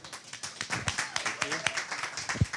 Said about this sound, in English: Let's give Christian a round of applause